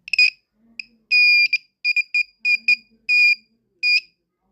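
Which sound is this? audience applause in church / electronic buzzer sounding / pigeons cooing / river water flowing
electronic buzzer sounding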